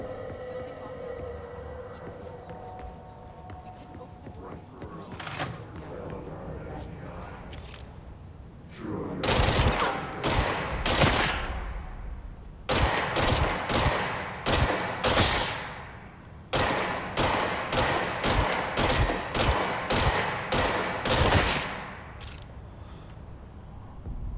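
Bursts of gunfire from the action game Control, starting sparse and then coming in repeated loud volleys of rapid shots over a low ambient rumble, with short pauses between bursts.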